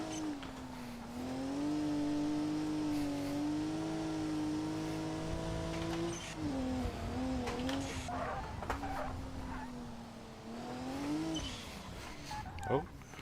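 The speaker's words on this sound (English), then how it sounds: "This car also sounds quite nice." A car engine hums and revs on winding mountain roads, its steady tone rising and falling between gear changes as a driver talks over it.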